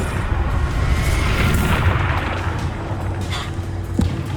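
Confringo fire-blast spell bursts in Hogwarts Legacy combat, a dense rumbling explosive roar sustained throughout with a sharp crack near the end, loud and close, no voices.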